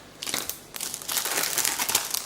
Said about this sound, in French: je vais faire beaucoup de bruit là. Parce que le papier est complètement collé.